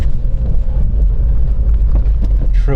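A 2008 Mazda MX-5 GT NC, rear-wheel drive, pushes through a winter blizzard with a loud steady low engine drone and road rumble heard from the cabin, plus a brief rising whine near the end.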